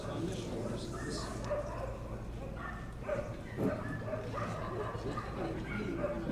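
Dogs bark repeatedly in short yips and woofs during a Kabbalat Shabbat service, scattered through steady background noise with talking nearby.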